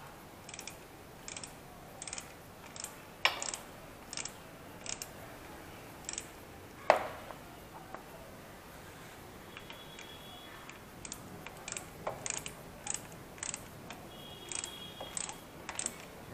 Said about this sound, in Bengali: স্লাইডারটা আমি অলরেডি ফিট করেছি, করে এবার টাইট করার পালা